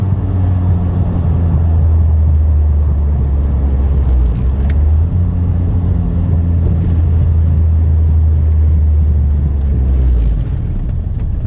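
A tuned car engine runs in fourth gear with the foot off the throttle, giving a steady, loud, low droning rumble from inside the car that holds throughout with no one talking.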